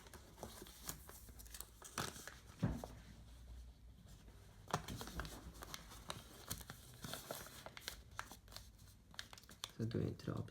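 Paper is handled and folded while making an origami Golden Snitch, giving soft crinkles, creases and rustling taps scattered through the clip, quiet and close under a speaking voice.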